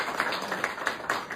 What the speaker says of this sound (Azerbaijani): Gəlin biz İslam oyunlarında olan qaliblərimizi bir alqışlayaq.